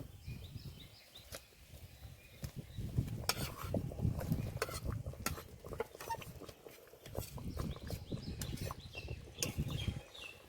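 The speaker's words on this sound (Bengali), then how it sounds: "এবার ভেজে রাখা পটলগুলো দিয়ে দেব" Fried pointed gourd pieces going into a pan of coconut-milk gravy and being stirred, with scattered clinks, scrapes and soft splashes coming in irregular bursts, fairly quiet and close.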